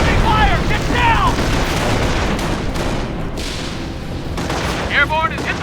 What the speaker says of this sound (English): Enemy fire! Get down!